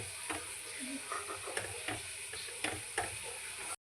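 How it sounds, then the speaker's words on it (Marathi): Dry fruit mixture stirred into jaggery syrup makes soft, irregular scraping and clicking strokes over a constant high hiss, fairly quiet and close. "हे मिश्रण व्यवस्थित मिक्स व्हायला पाहिजे या मिश्रणामध्ये, गुळामध्ये, म्हणजे गुळाच्या पाकात"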